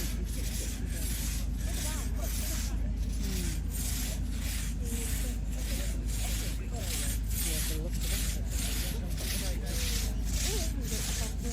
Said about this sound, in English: come and have a little go on this saw. Still using these saws, and it's still a pretty proficient saw.